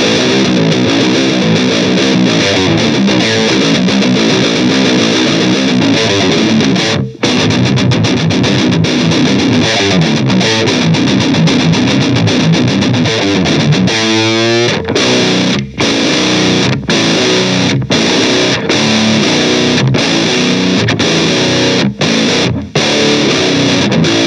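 A baritone guitar plays heavily distorted, chugging riffs through a Bullhead Scorpio 2x12 combo amp, loud and close, with brief stops between phrases and a swept, wobbling note partway through.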